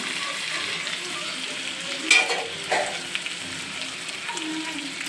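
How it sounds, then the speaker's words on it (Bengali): A spice paste with ground poppy seed, cashew and yogurt fries in a pan with a moderate sizzle, broken by a couple of louder stirring scrapes. "এই দেখুন ভালো করে আমরা কষে নেব।"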